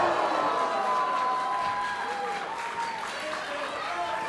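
Wrestling crowd at a Championship Wrestling from Hollywood show reacting with applause and cheers during a match, steady and fairly loud under a commentator's voice.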